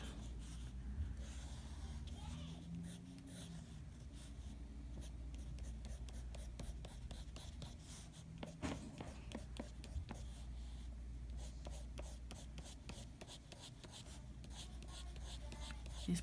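Soft, steady scratching of colored pencils across paper, close up, with quick repeated strokes and occasional breathing.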